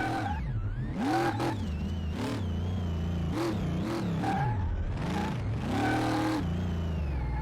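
Ford Mustang Mach 1 engine repeatedly revved up and dropping back, heard close and loud in a series of rising and falling blips over a steady rumbling idle, with no talking.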